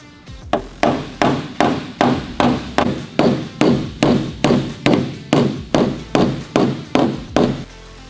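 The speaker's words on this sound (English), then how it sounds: "get our blending hammer and start correcting some of these crowns" A blending hammer strikes a rear quarter panel repeatedly to correct crowns, about sixteen sharp, evenly spaced metallic blows in a steady rhythm, close and loud with no talking.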